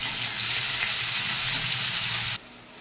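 Chopped pumpkin and finely cut onion sizzle loudly and steadily in a hot pan, a dense continuous frying hiss that cuts off sharply near the end.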